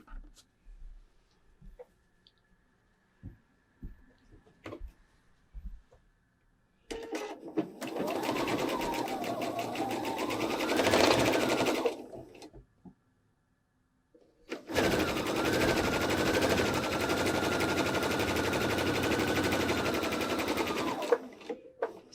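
A sewing machine stitches quilt blocks along a quarter-inch seam allowance in two long, steady runs. Each run is a loud, even whir that speeds up and slows down. Quiet handling noises come between the runs.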